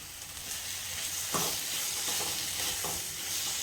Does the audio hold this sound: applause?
no